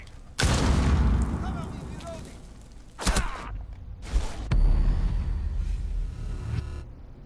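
Gunfire and booming impacts in Rainbow Six Siege, loud bursts starting abruptly and sustained, broken by short gaps and renewed heavy blasts, with voices talking over parts of it.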